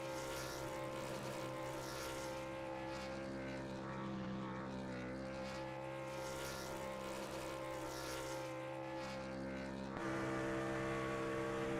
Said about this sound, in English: As we will, of course, watch Austin McGill do a celebratory burnout.